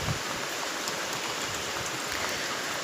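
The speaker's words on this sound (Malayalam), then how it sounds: "ഇവിടെ നല്ല മഴയാണ് ഇന്ന്, ഉച്ച തൊട്ട് തുടങ്ങിയിട്ടുള്ള മഴ" Heavy afternoon rain pouring steadily outdoors, a dense continuous hiss with no pauses and no voices.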